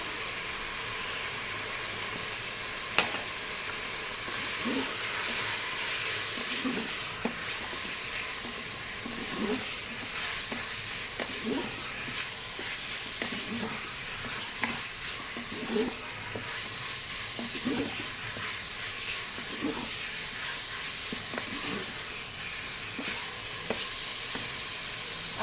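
Berkoukech with turmeric and garlic sizzles steadily in a Cookeo pot while a spoon stirs through it in regular scraping strokes, close and continuous over the constant hiss of frying.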